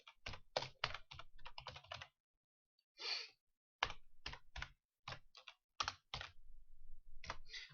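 Bursts of computer keyboard typing, close and fairly loud, come in quick clattering runs of keystrokes separated by short pauses, with one brief soft breathy sound in a gap.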